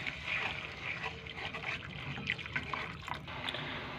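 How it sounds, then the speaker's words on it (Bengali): Hot water being poured into a fish curry gives a soft, continuous trickle and splash of liquid into the pot, quiet and close, with no one talking. "তো আমি গরম করে রাখা জলটা দিয়ে দেব।"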